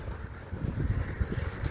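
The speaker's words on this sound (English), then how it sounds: "it is getting really windy out of nowhere" Wind suddenly picking up outdoors, buffeting the microphone with low, rumbling gusts that rise and fall unevenly.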